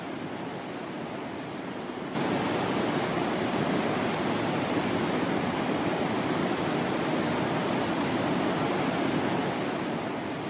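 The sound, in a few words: river flowing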